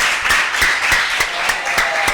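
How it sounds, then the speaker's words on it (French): Audience applause at a French-language evangelical gospel meeting, a sustained wash of clapping with a few sharper, louder claps standing out at a steady rhythm, fairly close and with no talk over it. "Applaudissements."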